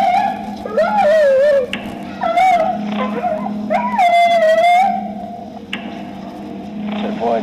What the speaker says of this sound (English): Team is call blasting wolf cries into the darkness surrounding their camp.